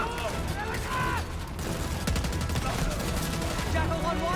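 Sustained gunfire from Call of Duty Black Ops 6, loud bursts and rapid automatic fire filling the whole stretch, with game voices and radio chatter mixed in.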